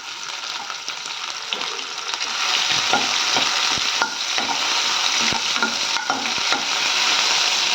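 Crushed ginger, green chili and garlic fry in a pan for potato capsicum thokku. There is a steady, loud sizzle with occasional stirring scrapes, and the sizzle intensifies partway through as the paste hits the hot oil.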